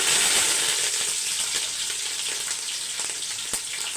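Mustard seeds, fenugreek, curry leaves and green chilies hit hot oil, giving a steady loud sizzle with scattered crackles and pops throughout, no voices.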